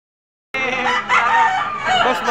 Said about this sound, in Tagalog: Mga kagandang manok.